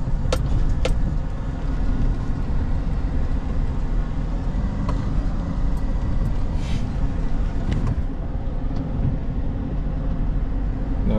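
An old pickup-style vehicle's engine idling low and steady while reversing, a constant close rumble throughout, with a few faint clinks and taps on top and no talk.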